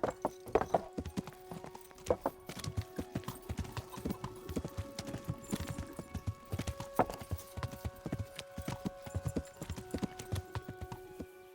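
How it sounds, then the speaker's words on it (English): Horse hooves clip-clop steadily and close by in the medieval video game Kingdom Come: Deliverance, a continuous rhythmic run of hoofbeats with an occasional whinny, no talking over it. "Why is the horse coming from way over here?"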